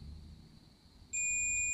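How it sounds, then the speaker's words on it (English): Sharp electronic beep from an HP 15-cp laptop as its power button is pressed during a repair, starting abruptly after a quiet hum and holding steady and loud to the end. "see if we hear a beep"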